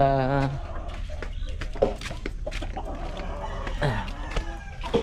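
Chicks and chickens clucking and cheeping close by, with repeated short peeps and clucks over a steady low rumble, a rising tonal call at the start, and occasional voices in the background.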